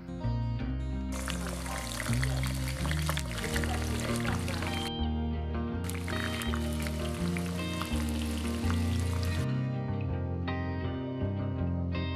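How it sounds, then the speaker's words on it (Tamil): Eggplant pieces sizzle and crackle in hot oil on a wood stove in long hissing stretches that rise and drop, over a steady background of low tonal music. "வெட்டி வச்சிருக்கிற கத்திரிக்காய் எல்லாத்தையும் வந்து பொரிச்சு எடுத்துக்கலாம்"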